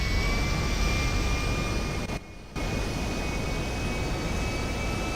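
A video game aircraft engine drones steadily in flight, a constant mid-level whine with a faint high tone, briefly cutting out for a moment midway before resuming; no talking.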